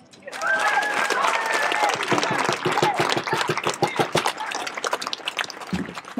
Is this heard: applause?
yes